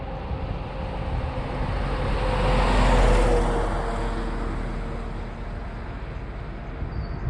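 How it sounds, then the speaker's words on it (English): A garbage truck drives past and swings in, its broad engine and road rumble swelling to a peak mid-clip then easing off, steady and fairly close, with no talk. "The garbage truck gonna turn in."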